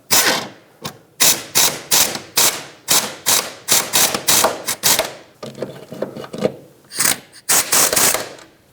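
A ratchet wrench snugs the rear shock absorber mounting nuts on a 2013-2020 Nissan Pathfinder, making loud, close bursts of rapid clicking that repeat in a steady rhythm with short pauses between strokes.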